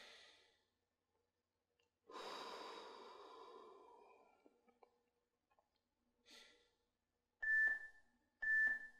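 Long, audible exhale during a workout stretch, close and soft, followed by quieter breaths and two short electronic beeps near the end.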